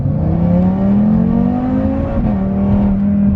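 Audi RS3 with a tuned 500 whp engine accelerating hard under launch control, a loud, steady rising engine note climbing in pitch, dipping briefly at a gear change, then pulling on, with no talking.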